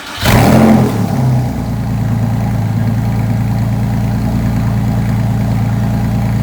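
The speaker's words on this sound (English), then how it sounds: "Let's go ahead and drive this car." A Porsche 911 with a fully rebuilt engine barks into a loud rev up close, then settles into a steady, throbbing idle that carries on evenly to the end.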